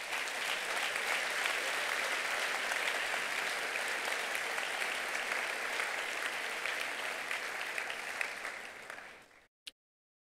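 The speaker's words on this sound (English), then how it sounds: "Round of applause for our graduates" Steady, dense applause from a large commencement crowd cheering graduates, loud and continuous before cutting off abruptly near the end.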